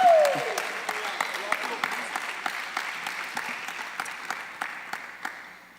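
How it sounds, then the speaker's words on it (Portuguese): A church congregation claps along in a steady, rhythmic beat, evenly spaced sharp claps over a soft room murmur, with a short sliding whistle at the start. "Vamos aplaudir Jesus?"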